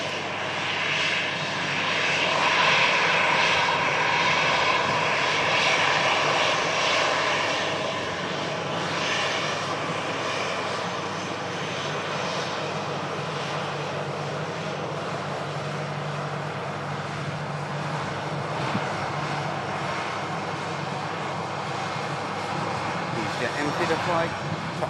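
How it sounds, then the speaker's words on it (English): A jet airliner taxis past at an airport with dual runways, a loud sustained engine roar and whine lasting throughout, steady and close, with a low hum underneath. "Flight, taxiing past us."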